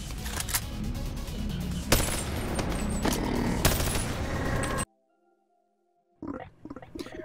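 Rapid gunfire from a favorite weapon in the VR game Bonelab comes in dense bursts, loud and close, breaks off into near silence, then a few more shots follow.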